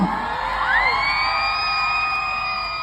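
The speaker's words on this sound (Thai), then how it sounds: "ปรบมือกับผู้ชายอื่นอูหน่อยได้ไหมคะครับทุกคน" A crowd of fans at a Skechers event in Thailand cheers for Cha Eun Woo of ASTRO, with high rising screams and whoops that swell into a sustained, fairly loud roar.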